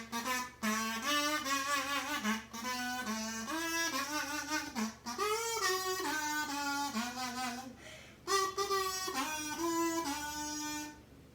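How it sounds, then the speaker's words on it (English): A buzzy kazoo plays Happy Birthday note by note, loud and close, with short pauses between phrases and no talking. "This is a real kazoo. It sounds like this."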